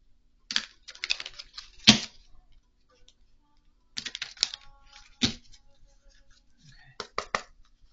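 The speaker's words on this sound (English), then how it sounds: "Okay, but I want to shuffle them first." A deck of cards is shuffled in crisp riffling bursts, three quick clusters of papery flutters and snaps separated by short quiet gaps, close and fairly faint.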